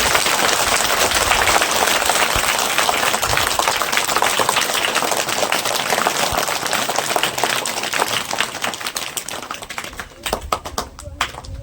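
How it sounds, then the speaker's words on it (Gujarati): Applause at a school entrance and girls' education welcome ceremony at a village primary school, a dense, steady clapping crowd sustained and loud throughout, thinning into scattered claps near the end. "તાળીઓથી વધાવી લઈશું ભાઈ સાહેબ."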